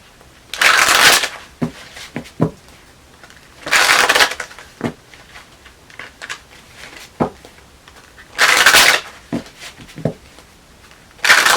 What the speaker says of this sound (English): Alright, one more shuffle.